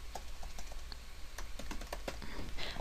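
Fingers type on a computer keyboard while writing HTML5 canvas code, producing close, irregular clicks and taps in short bursts.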